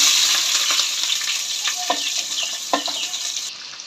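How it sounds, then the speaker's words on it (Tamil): Onions sauté in hot oil with ginger, cloves, cinnamon and cardamom, a steady bright sizzle with a few stirring scrapes and clicks, close and loud, easing slightly toward the end. "இது ப்ரௌன் கலர் வர வரைக்கும் நல்லா வதக்கிக்கலாம்"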